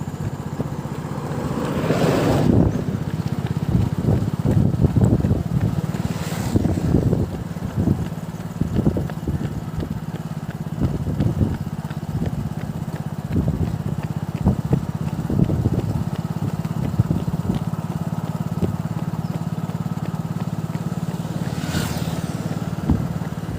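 A motor vehicle, probably a motorbike, runs along a road near a runner on a 5 km training run, its engine drone steady throughout with gusty wind noise and scattered thumps.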